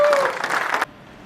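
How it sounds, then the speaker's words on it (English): A school batch reunion audience gives a brief, lively round of applause, full and close, that cuts off abruptly partway through and leaves near silence. "So let's have a big round of applause for that."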